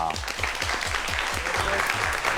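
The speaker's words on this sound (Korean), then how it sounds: "두 분을 박수로 모시겠습니다" A seated audience applauds a pair of guests at a Korean talk event on robots, with steady, fairly dense clapping under a light wash of voices, moderately loud throughout.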